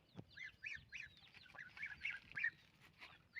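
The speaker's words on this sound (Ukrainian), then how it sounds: "Гусенята також бігають." Faint high-pitched peeping of goslings and ducklings, many small cheeps overlapping in quick irregular bursts, heard outdoors at a little distance.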